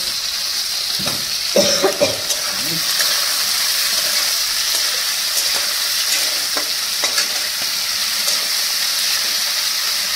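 Onion and tomato sizzling in a pan for a catla fish curry, a steady bright frying hiss with occasional stirring scrapes and clinks, close and continuous with no talking.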